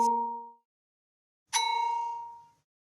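A phone ringing with two bright, bell-like electronic tones, each ringing for about half a second to a second before decaying, separated by a short silence, with no voices.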